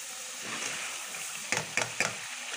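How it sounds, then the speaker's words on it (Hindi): A spoon stirs egg and potato curry masala frying in a pan. Three quick scraping clacks cut through a steady sizzle, close and moderately loud. "चमचा चला बेटा"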